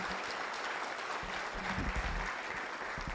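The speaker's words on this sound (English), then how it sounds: "How about a round of applause for Judy Schroeder and Sue Ives?" An indoor crowd at an alpaca fleece room reveal and social gives a dense, continuous round of applause for the fleece room organisers, steady and fairly loud throughout.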